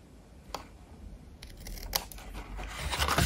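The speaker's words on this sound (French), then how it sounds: "on va avant couper un petit biseau aussi ici sur cet onglet-là" Scissors snip a small bevel into a cardboard tab on a handmade hexagonal box, a few close, crisp cuts rising toward the end.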